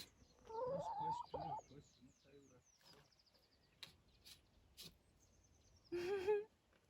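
A hen in a village yard clucks loudly and close after laying an egg, with several short bursts of clucking and gentle human voices talking between them.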